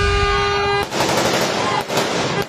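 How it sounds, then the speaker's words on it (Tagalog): Rapid gunfire from an ambush shooting in Barangay Kapiyan, San Rafael, Bulacan: loud sharp bursts of shots in quick succession, breaking in after a sustained tone and running to the end. "Sunod-sunod na umalingaw-ngaw ang mga putok ng baril sa Barangay Kapiyan sa San Rafael, Bulacan, pasado 3:00 kaninang hapon."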